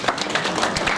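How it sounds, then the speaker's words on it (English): Audience applause in a lecture hall during a development dialogue event, a short burst of steady clapping from the crowd, moderately loud and continuous throughout. "Can you give a clap for it?"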